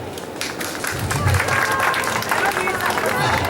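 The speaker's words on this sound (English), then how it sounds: "give me a little clap" An audience at a First World War home-front talk in Norwich gives a short burst of clapping, a dense patter of many hands under crowd murmur.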